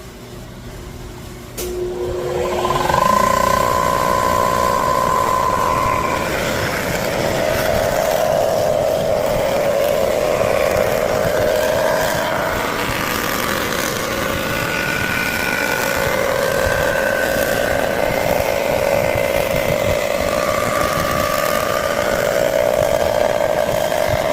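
A machine shop resurfacing cut on a Toyota 22RE cylinder head gives a steady, loud grinding whine with shifting tonal squeals. It starts after a brief quieter moment and runs continuously, close by, with no talk over it.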